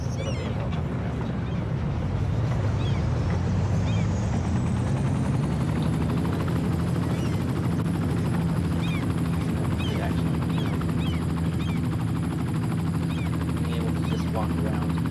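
A helicopter flying in the city-building game Cities: Skylines, a continuous low rotor drone and engine whine that stays loud and steady throughout, with a voice talking over it.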